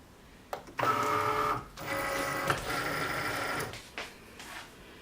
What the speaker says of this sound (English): Cricut went through to make sure everything was okay.